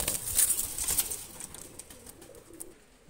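A pigeon offered for sale coos softly a few times, low and close, over a hissy, rustling background with no talking.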